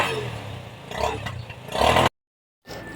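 A motorcycle engine started after sitting unused for months, running with a steady close rough rumble and hiss that briefly cuts out before resuming.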